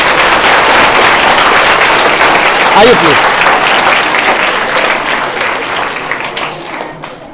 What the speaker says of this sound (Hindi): शिवानी मैम के लिए और तालियां हो जाएं।